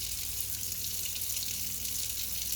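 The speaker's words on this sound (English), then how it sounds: "I'm going to rinse out this shampoo and move on to the conditioner" Tap water running steadily while shampoo is rinsed out of natural hair, a continuous close hiss of flowing water with no speech.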